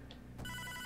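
A telephone starts ringing in the Hotline Miami 2 video game, a bright electronic trill cutting in midway over a low background hum, loud and close with no talking.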